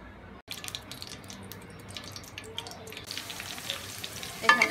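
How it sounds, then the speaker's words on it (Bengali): Roughly a cup of onions frying in a pan for a chicken roast, a steady close sizzle with light crackle and occasional stirring scrapes, building louder toward the end. "এখানে আমি 1 কাপ পরিমাণ পেঁয়াজ দিয়ে খুব ভালোভাবে পেঁয়াজটাকে এখন ভেজে বেরেস্তা করে নিব"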